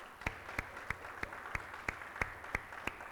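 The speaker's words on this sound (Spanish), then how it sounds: "Los recibimos con un fuerte aplauso" A church congregation claps in a slow, even rhythm, about nine spaced claps in three seconds, faint and somewhat distant with a soft room hum beneath.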